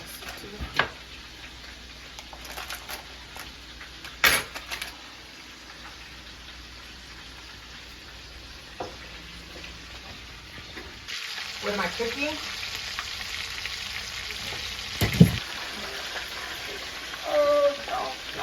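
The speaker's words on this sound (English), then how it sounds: "Let's give it a good stir." Ground beef fries in a pan, a soft steady sizzle broken by a few clinks and scrapes of a utensil as it is stirred, with someone speaking briefly over it.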